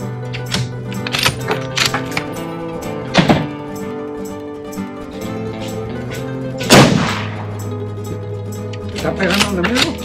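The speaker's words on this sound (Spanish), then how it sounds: "Pero me gustaron más estos tiros" Several loud rifle shots from a Remington Model 700 chambered in .308 Win, fired outdoors at a range, with sharp reports spread across the clip and people talking in between.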